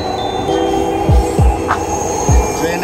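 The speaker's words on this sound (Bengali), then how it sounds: "ট্রেনের গতিবেগ এখন আস্তে আস্তে বাড়ছে।" Inside a Dhaka Metro Rail train gathering speed, a steady rolling hum carries a few deep, dropping thumps from the running gear.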